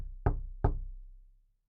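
Two light knocks on a door, close and isolated, about a third of a second apart, each thud fading out with a short ring in a quiet room.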